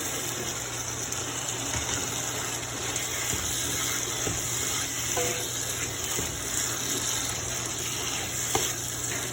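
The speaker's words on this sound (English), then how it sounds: "I'm just gonna let it marinate and fry together for a little bit" Vegetables and shrimp fry together in a pan, with a dense, even hiss that continues steadily throughout, marked by faint scattered stirring taps.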